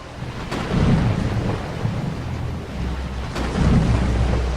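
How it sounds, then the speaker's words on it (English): Thunderstorm with deep rolling thunder rumbles and steady rain or wind noise, loud and close, with two swelling peaks of thunder over about five seconds and no talk. "It's just like any other storm"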